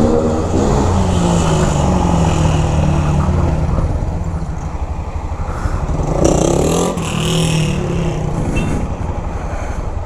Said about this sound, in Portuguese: Que moto é essa?